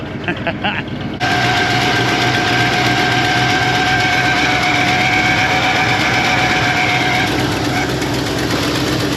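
Junkyard car idling with a howling AC compressor, a steady whining tone held over the engine's low rumble after it catches and settles, with faint talk underneath.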